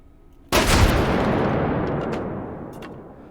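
In the video game H3VR, an explosion obliterates a door: one sharp, loud blast hits suddenly, then rolls into a long roaring rumble that slowly fades over several seconds.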